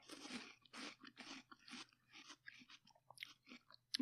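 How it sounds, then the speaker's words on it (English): People crunch and chew raw yacon root up close, giving rapid, crisp bite-and-chew crunches in a steady rhythm over a faint low hum, with no talking. "Do you think it's disgusting for people to hear us chewing?"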